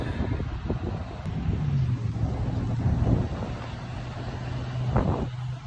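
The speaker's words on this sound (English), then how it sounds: "Car." A car passes by on a street with a steady engine and tire rumble that swells a little as it goes by, mixed with light wind noise.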